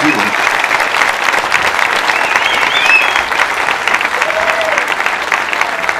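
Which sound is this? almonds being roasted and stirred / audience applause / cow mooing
audience applause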